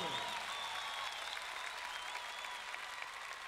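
Concert crowd at a Movistar Arena show in Buenos Aires applauding steadily, a dense wash of clapping with some cheering that holds at an even, full level throughout.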